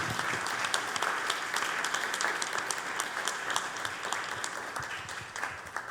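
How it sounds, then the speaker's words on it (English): An audience at an annual board meeting applauds, with dense, sustained clapping that stays loud and even throughout. "let's give her a round of applause"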